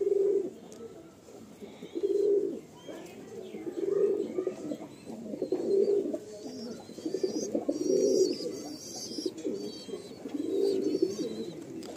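A pair of Madrasi pigeons, male and female, coo close by in soft, low, repeated bursts roughly every two seconds, with faint chirps from other birds behind.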